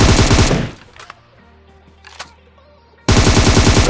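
Automatic gunfire from BGMI mobile battle royale gameplay, loud sustained bursts at the start, a quieter gap with faint game sounds and a couple of distant shots, then another heavy burst at the end.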